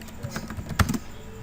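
A brief flurry of typing on a computer keyboard, with several soft, close key taps and one sharper clack near the middle.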